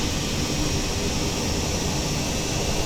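Jet aircraft engines spooling at high thrust for a power-back pushback of a BR Sim Designs E121A1 airliner in Microsoft Flight Simulator 2020, a loud steady roar with broadband rumble, continuous throughout with no talk.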